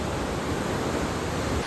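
Waterfall below a temple, a dense steady rush of falling water, loud and close, unbroken for the whole stretch.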